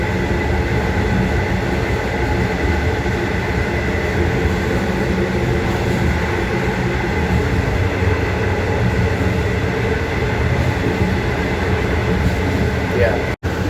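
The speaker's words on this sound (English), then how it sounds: "You can hear the sound of it braking, but there's barely any force." An N-class locomotive-hauled train in Melbourne brakes, giving a loud, continuous rumble with rail noise and a steady hum, heard from on board and ending with a sharp click.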